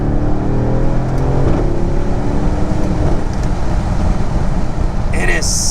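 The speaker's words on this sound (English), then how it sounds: "So when you step on it from a standstill, it feels like this SUV has 600 horsepower because it just grips." A Mercedes GLC 63 AMG SUV accelerates hard from a standstill, with a loud, steady engine roar and rising harmonics rumbling continuously throughout, heavy low-end noise dominating the whole stretch.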